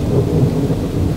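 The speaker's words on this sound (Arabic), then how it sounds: "ما هذا المطر العجيب الذي يمنعنا من التقدم صوب محمد؟" Heavy rain pours steadily under a deep, continuous rumble of thunder in an animated film scene, loud and dense with no voices.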